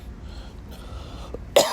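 A single short cough bursts out near the end, close and loud, after a stretch of low room noise inside a Chicago Nike outlet store.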